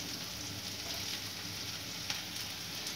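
Mutton pieces frying in a pan for a mutton sambar, a dense, even sizzle with steady crackle close to the microphone and no talking.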